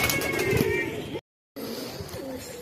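Pigeons cooing at close range, a newly bought bird among them, with soft low calls under household background noise; the sound cuts out briefly midway and then resumes.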